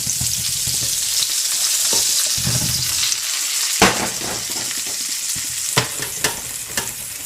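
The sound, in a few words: mushrooms and onions frying in beef fat and butter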